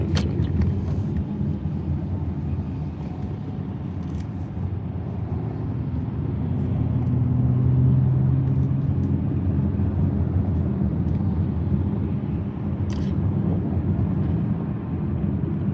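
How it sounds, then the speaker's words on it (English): Steady road traffic in a busy Florida area, a continuous low rumble of passing cars and engines that swells slightly mid-clip, heard from nearby with no clear talking. "So much traffic."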